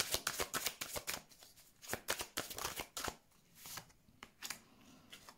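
Tarot cards drawn from a deck and handled on a table, a quick series of close papery flicks and snaps in irregular bursts, with no talk over them.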